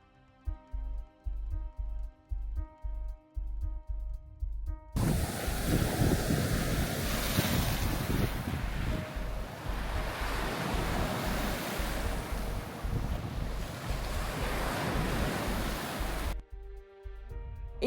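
Steady wash of waves breaking on a sandy lakefront beach in Toronto's east end, a broad continuous roar for about eleven seconds, with faint music pulsing before and after.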